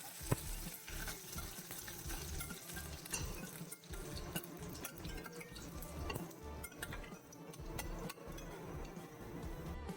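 Garlic, curry leaves and dried chillies crackle and sizzle steadily in hot oil, with intermittent scraping from stirring throughout.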